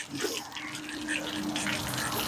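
Water runs steadily from a hose while a 1957 Chevy Bel Air chassis is cleaned, a constant hissing spray and splatter at close range with faint voices beneath.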